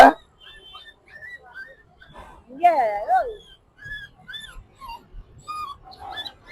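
A small puppy whimpers in a public place, giving thin, wavering high cries that come in short bursts with gaps between them, while people talk nearby.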